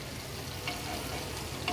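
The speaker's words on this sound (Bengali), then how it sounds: "তো চলো এবার মাছগুলো আস্তে আস্তে উল্টে দিই।" Snakehead murrel fish spiced with masala fries in a pan, giving a steady, soft sizzling hiss with a couple of faint scrapes as the pieces are turned over.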